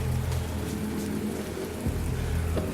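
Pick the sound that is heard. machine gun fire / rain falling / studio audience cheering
rain falling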